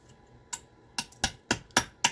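A hammer knapping flint into gunflints, six sharp, crisp stone-on-stone clicks at close range, the first one lone and the rest coming in a quickening, fairly even rhythm.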